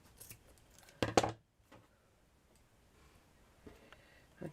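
Scissors snip thread on a hand sewn from a sock for a doll, a brief close cluster of crisp cuts in a quiet room, with a few faint ticks around it.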